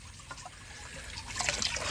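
Weed-soaked liquid fertiliser water being poured out in a garden: a soft, fairly quiet trickle and splash of liquid that grows a little fuller toward the end.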